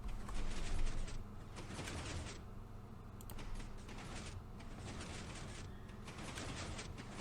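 A thin 4x4 piston door in the Minecraft video game works with a run of short, hissing mechanical bursts, about five of them in a loose rhythm, fairly faint and without any voice over them.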